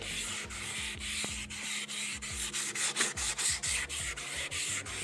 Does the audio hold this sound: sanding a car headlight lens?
yes